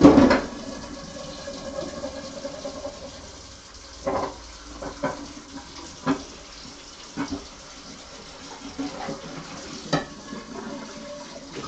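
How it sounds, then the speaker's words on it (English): Tap water runs into a non-stick Teflon pot being washed in a kitchen sink, a steady close splashing flow with a few louder clanks and scrubbing bursts scattered through it. "we gotta clean this pot off over here real quick"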